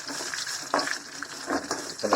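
Curry leaves and garlic sautéing in a pan for a tomato-free coriander-leaf tamarind kulambu, a soft steady sizzle with a few brief stirring scrapes, fairly quiet.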